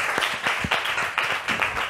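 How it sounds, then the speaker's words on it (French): Studio audience applause on a French-language evening talk show, a steady wash of hand claps at moderate level with a few sharper individual claps standing out, lasting about two seconds with no speech over it. "On applaudit."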